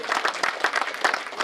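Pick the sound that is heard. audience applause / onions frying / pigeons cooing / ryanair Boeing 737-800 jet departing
audience applause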